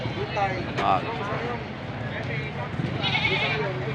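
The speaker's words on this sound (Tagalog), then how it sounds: "Pakadami hong kambing dito." Anglo-Nubian and Boer goats bleat now and then amid a busy outdoor livestock market crowd, with steady chatter and voices layered over the animal calls.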